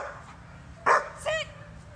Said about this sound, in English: Ball behind her back, she barks.